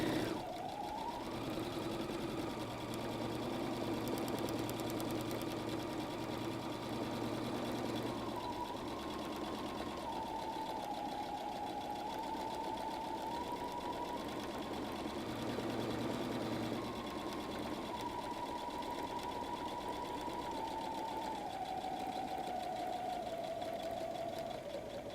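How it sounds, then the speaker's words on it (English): A sewing machine stitches a messenger bag in a steady, continuous whirring hum with a rapid needle chatter, running for a long stretch with slight shifts in speed and no talking over it. "I start sewing again."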